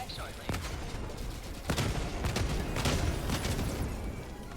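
Rapid bursts of flak cannon fire in Helldivers 2, sharp repeated blasts in quick succession with faint voices underneath.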